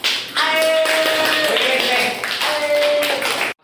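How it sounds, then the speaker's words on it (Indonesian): Classroom clapping after a student's answer on globalization, a steady patter of many hands lasting a few seconds, with voices and a sustained tone mixed in before it stops abruptly. "tepuk tangan"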